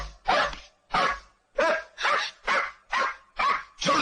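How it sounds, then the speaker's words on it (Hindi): Hunting dogs bark in a steady series of about eight loud, sharp barks spaced roughly half a second apart, close by, with no talking over them. "वरना ये शिकारी कुत्ते तुम्हें चबा डालेंगे।"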